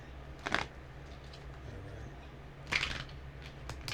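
A deck of cards is shuffled twice, each a quick riffling burst of papery flutter set apart by a quiet pause, close and fairly soft against a low room hum.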